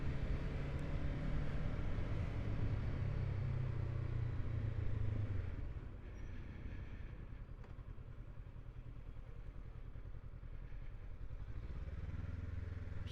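Steady motorcycle engine drone from a Honda CB500X moving through traffic, with low rumble throughout, a brief drop in level midway as it slows between vehicles, and faint road and traffic noise around it.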